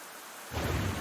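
A thunderstorm with rain in the video game Black Book begins as a thin hiss, then a deep rolling rumble of thunder swells in and carries on loudly over steady rain.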